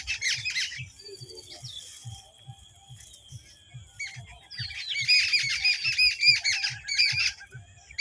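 A flock of small birds squawking and chirping in alarm near a nest, with harsh overlapping calls that thin out briefly and then swell louder and denser toward the end. A steady low rhythmic patter runs underneath.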